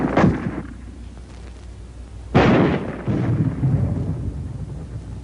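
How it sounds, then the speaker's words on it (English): Armor-piercing rounds fired at a wall, heard as two heavy booming bursts, the second louder, each trailing off into a long rumbling decay. "At ranges up to 200 yards, armor-piercing ammunition can smash through this kind of wall any time"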